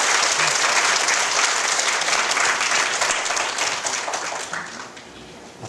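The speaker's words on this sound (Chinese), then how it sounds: "掌声欢迎我们李教授来给我们演讲" Warm applause from a large lecture audience welcoming Professor Li on stage, dense steady clapping that stays loud and then gradually thins and fades toward the end.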